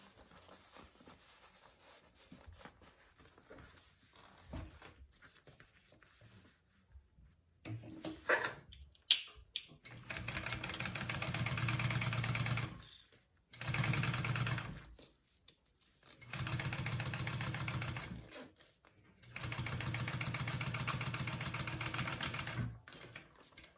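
A home sewing machine top stitching the lining of a fabric bucket bag runs in several steady bursts of whirring stitches, separated by short pauses, close and clear with no talk.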